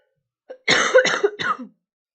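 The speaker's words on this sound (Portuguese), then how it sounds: "eu tossi no microfone." A short burst of three harsh coughs, close and loud, with a brief catch of breath just before them.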